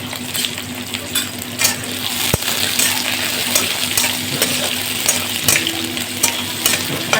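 Onions fry in hot oil with cumin and bay leaf, a dense continuous sizzle close up, broken by occasional sharp clinks and scrapes of a spoon against the pan.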